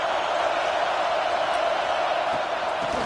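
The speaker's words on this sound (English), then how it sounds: "It's early, but this crowd is fired up. Listen to this noise here." A packed stadium crowd at a Penn State versus Notre Dame college football game roars continuously, a loud, dense, steady wall of noise throughout.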